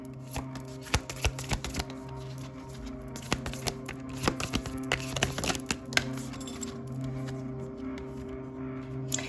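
Tarot cards being shuffled and drawn, giving dense bursts of crisp flicking and riffling snaps that come in quick clusters, close and clear with no talking.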